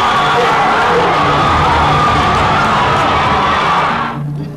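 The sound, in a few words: football crowd cheering a goal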